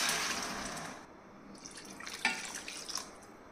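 About one and a half glasses of water pour into a pot of spicy country chicken curry, a faint, brief splashing trickle with soft drips that tapers off.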